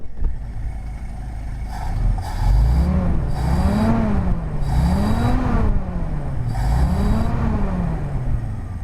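A 1969 International Scout engine runs close by with a carburetor that may need adjustment, its idle rising and falling in steady, loud revving swells over a low rumble.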